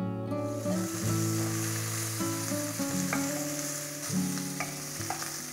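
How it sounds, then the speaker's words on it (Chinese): Pork belly stir-frying in hot oil in a wok, a steady close sizzle with the scrape and clack of a spatula tossing the meat at irregular intervals, no voices. "锅里面倒油，把五花肉炒香"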